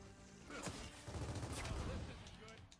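Loud gunfire and explosive blasts from the Gears of War 4 video game, a dense, continuous barrage of bursts and low booms filling the scene.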